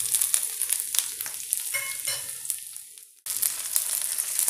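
Ginger sizzling in hot sesame oil alongside popped mustard seeds for banana stem pickle, a dense crackling fry with scattered pops and a brief dip into near silence before the sizzle resumes at full strength.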